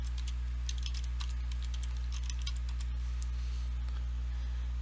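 Light tapping on a computer keyboard while entering a web address, irregular clicks in close bursts over a constant low electrical hum.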